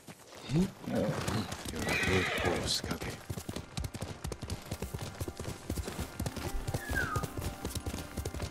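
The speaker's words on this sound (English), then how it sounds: "Horse!" A horse in the video game Ghost of Tsushima gives a loud whinnying neigh over a steady clip-clop of hooves, set within busy game ambience and music.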